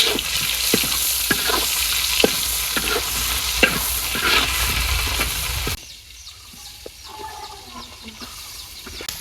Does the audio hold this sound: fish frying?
yes